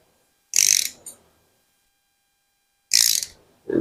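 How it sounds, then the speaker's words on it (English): A big block Mopar engine turned over by hand with a wrench: two brief bursts of rapid metallic ratchet clicking separated by long silence, close and otherwise quiet. "roll the motor over a couple turns and watch the valve action"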